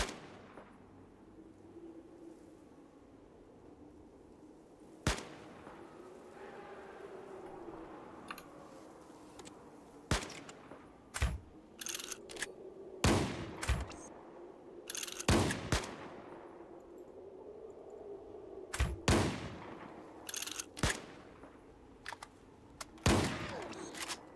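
Gunfire in the tactical game Fallout Tactics: sharp, isolated shots and short bursts crack at irregular intervals over a quiet low background, fairly close and punchy.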